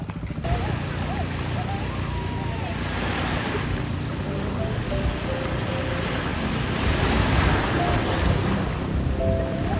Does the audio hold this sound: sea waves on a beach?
yes